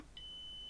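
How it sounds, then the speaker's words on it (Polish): Multimeter continuity beep while testing the wiring of a 1962 W-GE-56 turntable cartridge, a single steady high electronic tone starting just after the beginning and holding to the end, clear over a quiet background. "Zróbmy próbę miernikiem."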